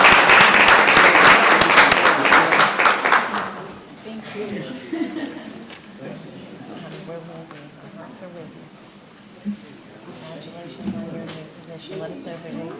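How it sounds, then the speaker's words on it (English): A crowd at a Columbus, Georgia city council meeting applauds loudly for about three seconds, the clapping fading out into murmured talk and a few scattered chuckles. "Let's celebrate the life of Milton Lockett one more time, folks, with a round of applause."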